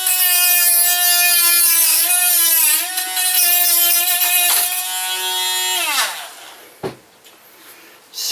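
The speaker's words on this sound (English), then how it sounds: "I'm going to use my little Dremel" A small Dremel rotary tool whines at high pitch while cutting on a salvaged bicycle, its tone dipping and rising under load for several seconds before spinning down, followed by a sharp clunk.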